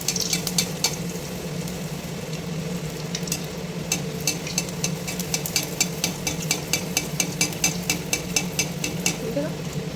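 Luchi puffing in hot oil sizzles steadily, while a utensil stirs and ladles, making a rhythmic series of sharp metallic taps. A voice talks briefly over it.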